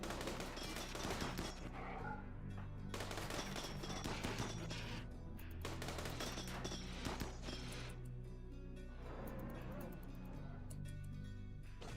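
Rapid bursts of SMG gunfire in the video game RimWorld, with dense repeated shots running through the whole stretch under ongoing talk.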